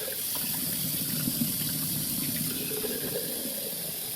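A glass jar being rinsed under a tap after holding vinegar: water runs steadily and splashes into the jar, a continuous close gush with no voices.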